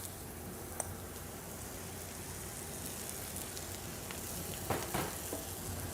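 Brussels sprouts frying in a pan, a steady quiet sizzle with scattered pops and crackles, a little busier toward the end.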